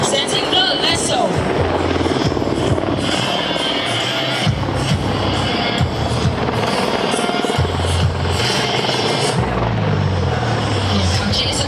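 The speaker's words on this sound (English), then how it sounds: "we have the Apache attack helicopter demonstrating its agility by whipping a continuous loop in the skies, presenting the lasso" An AH-64D Apache twin-engine attack helicopter performs a looping flying display at the Singapore Airshow, its loud rotor thump and engine whine continuous and close, with a commentator talking over it and faint crowd noise.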